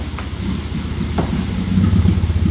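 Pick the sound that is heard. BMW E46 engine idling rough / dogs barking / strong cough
BMW E46 engine idling rough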